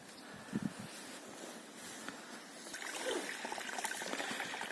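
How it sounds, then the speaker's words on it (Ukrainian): A tiny stream, cleared by beavers, trickles softly outdoors at old peat quarries, a faint steady babble with light rustling and a touch of wind noise. "І тут такий ще малесенький ручейок."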